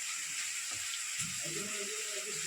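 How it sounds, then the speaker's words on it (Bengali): Marinated mutton goes into a pan with onions fried until reddish-brown and sizzles steadily, with a broad hiss running throughout and a few low clunks and stirring sounds beneath it. "পেঁয়াজগুলোকে লাল লাল করে ভাজার পর তারপরে এখানে আমি দিয়ে দিয়েছি মাটনটাকে, দিয়ে দিলাম ম্যারিনেট করা মাটনটা"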